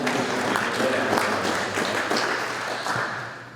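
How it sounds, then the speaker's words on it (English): A room of beekeepers at a club meeting applauds, a dense, steady wash of many hands clapping that holds for several seconds before thinning slightly at the end. "So let's give a round of applause, seriously, for that."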